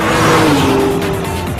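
A VW Golf GTI W12 with a 650-horsepower 12-cylinder engine accelerating hard, its loud engine note rising in pitch through a brief gear change over under two seconds.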